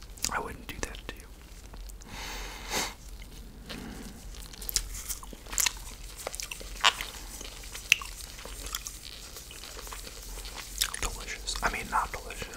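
Close, soft chewing and crunchy biting sounds mixed with breathy whispering in an ASMR roleplay of pretending to eat bugs, with occasional sharp clicks and wet mouth noises.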